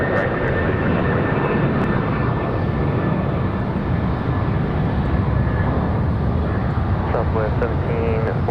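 Republic Airways jet taking off at Raleigh-Durham airport, a steady broad engine roar that holds loud and continuous throughout, with a faint tonal whine and some distant radio-like chatter near the end.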